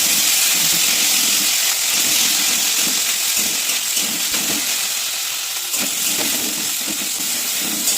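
Ginger paste and chopped tomato fry in a pan over a lowered gas flame for a cauliflower and potato curry, giving a steady, close hissing sizzle that runs unbroken throughout.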